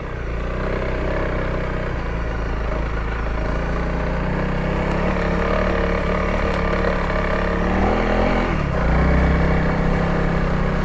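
Honda CRF300L dual sport motorcycle engine running steadily as it rides a rutted, leaf-covered trail, close and fairly loud, with a shift in pitch and a brief rise in revs near the end.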